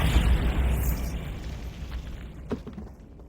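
A Bombarda spell blast in the Hogwarts Legacy video game, cast near a bone-lined archway in a tomb: a loud, booming explosion that hits at once and rumbles away over a few seconds, with a smaller thump late in the tail.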